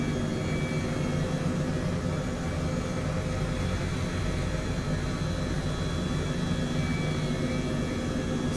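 An Airbus H135 helicopter in the flight simulator game MSFS 2020, flying over Dubai, gives a steady, dense turbine and rotor roar that holds unchanged and close throughout.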